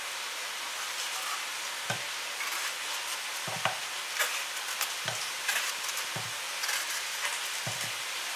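Vegetables sizzle and fry in a pan at low volume, a steady soft crackle broken every second or so by quiet stirring scrapes and thumps.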